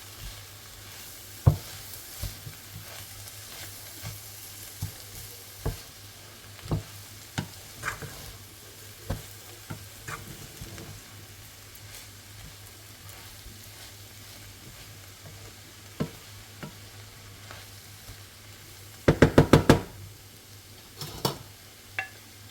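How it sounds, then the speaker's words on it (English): Cooked rice fries in a pan as it is mixed, a continuous low sizzle broken by scattered scrapes and taps of the spatula, then a quick burst of rapid clattering near the end. "Now mixing the cooked rice,"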